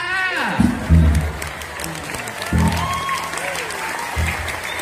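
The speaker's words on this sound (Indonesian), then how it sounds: "Itu sih tepuk tangan sih" Studio audience applause at a comedy duet show, broad clapping bursts rising and fading several times over a steady murmur of crowd noise and laughter.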